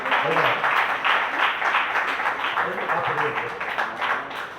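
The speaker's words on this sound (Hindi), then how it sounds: "लीला चौहान जी और ममता जी आज तो चाहूंगा इनके लिए भी एक बार जोरदार तालियां।" Sustained applause from a crowd at a TIENS business meeting in Sonipat, steady clapping filling the whole stretch with a few voices calling out faintly underneath.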